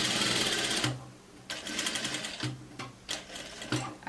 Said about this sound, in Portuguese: Aqui eu já estou costurando na manga.